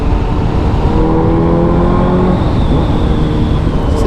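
A Honda CBR 1000 RR motorcycle engine drones steadily and loud, holding a throaty, even note with a faint rising whine near the end, no voices over it.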